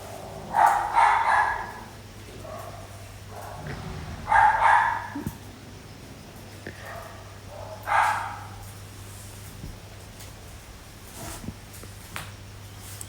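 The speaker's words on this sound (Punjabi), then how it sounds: "ਕੁੱਤੇ ਸਾਡੇ ਬਹੁਤ ਭੌਂਕਦੇ ਆ, ਬਿਲਕੁਲ ਗੱਲ ਨਹੀਂ ਕਰਨ ਦਿੰਦੇ ਹੁਣ ਸੁਣੋ ਆਵਾਜ਼ ਆਉਂਦੀ ਹੋ ਉਹਨਾਂ ਦੀ ਵੀਡੀਓ ਦੇ ਵਿੱਚ" Dogs on a rural Punjabi homestead bark in three separate bursts spaced a few seconds apart, at a moderate distance, with a few faint yips and soft shuffling in the quiet gaps.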